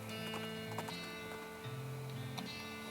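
Horse hooves in the West of Loathing video game: faint, quiet clip-clop of a horse's steps at a steady walking rhythm under soft game music.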